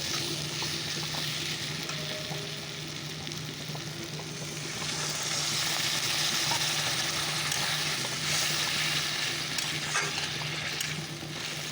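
Chapila fish going into a hot pan of oil and frying, a continuous dense sizzle that swells louder partway through and crackles steadily, close up with no talking.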